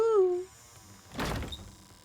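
A door being tried and opened in the video game Scarlet Hollow: a short burst of rattling, scraping sound comes up after a musical tone fades, fairly soft and heard alone.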